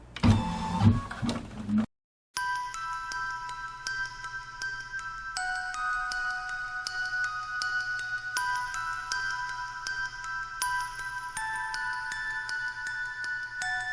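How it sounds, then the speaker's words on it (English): A home embroidery machine stitches a batting placement line in gray thread for a candy corn quilt block, giving a steady, close mechanical whir with shifting tonal pitches, after a brief burst of other noise and a short silence. "let's go ahead and stitch out the first step, which is the placement line for the batting"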